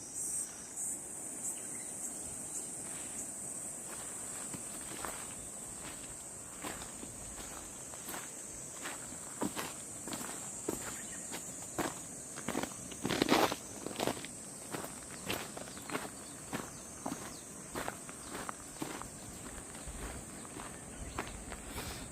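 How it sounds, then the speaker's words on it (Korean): Cicadas buzz in a steady high drone on a hot afternoon in a small Japanese town, heard alongside close footsteps walking steadily along a path, quiet overall with no talk. "와 매미 소리가 지금 장난 아니죠"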